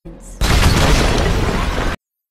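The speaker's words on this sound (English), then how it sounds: "That's a Mandalorian firecracker." A Mandalorian firecracker from Star Wars: The Clone Wars goes off in one loud, sustained burst, a sharp crackling blast lasting over a second before cutting off abruptly.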